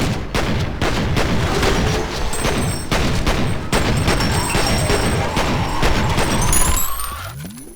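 Rapid pistol shots ring out in a dense, uneven volley in a first-person shooter. The sharp cracks come close and loud amid booming explosions and debris, and they fade out toward the end.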